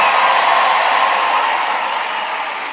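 A packed crowd at a Trump rally in Pennsylvania cheers and applauds in one loud, sustained roar of clapping and shouting that tapers slightly toward the end.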